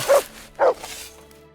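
A dog in Kingdom Come: Deliverance 2 gives two loud, close barks about half a second apart, followed by quiet.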